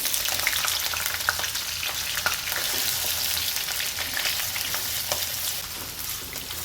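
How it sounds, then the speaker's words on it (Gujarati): Paneer cubes crackle and spit in hot oil in a kadai, a dense, continuous close-up frying hiss with scattered pops and light stirring sounds throughout. "તેલ અહીંયા આપણું ગરમ થઈ ગયું છે તો પનીર આપણે નાખીશું."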